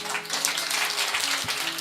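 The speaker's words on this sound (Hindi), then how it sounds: "लेकिन तालियां अभी।" An audience claps together at a devotional stage program, a dense, continuous wash of applause lasting a couple of seconds, with faint sustained tones beneath.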